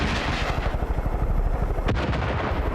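Rocket launcher fire in the Far Cry 5 video game: a dense, rumbling barrage of low booming blasts, with a sharper burst near the end and no talking.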